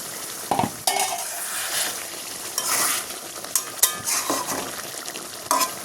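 Pangas fish bhuna with garlic paste frying in a pan, a steady sizzle broken by several sharp scraping stirs of a spatula against the pan, loud and close, with no talking.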